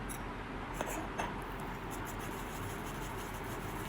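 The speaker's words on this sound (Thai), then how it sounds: "จากนั้นนำกล้วยที่เราขยำไว้นะคะ มาผสมลงในส่วนของไข่ค่ะ" Mashed banana is stirred into a vanilla-scented egg mixture for a banana cake, a faint, steady scraping and rubbing of a spoon in a bowl, close and without talk.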